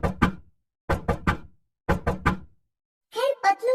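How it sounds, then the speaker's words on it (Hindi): Knocking on a gate in a Hindi kids' cartoon: three quick groups of two to three sharp knocks, loud and close, followed by a brief child-like voice. "तो उसे गेट बजाने की आवाज आती है।"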